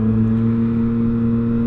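A 2018 Yamaha MT-09 motorcycle accelerates with a steady, loud engine drone and strong low harmonics, heard briefly from up close on the bike.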